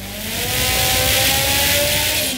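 Mitsubishi Evo engine revving hard on a dyno at a tuner shootout, a loud sustained roar that swells and holds with rising tonal whine, then eases off at the end.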